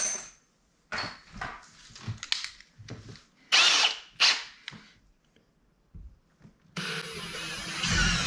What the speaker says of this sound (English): We're gonna drill 2 holes.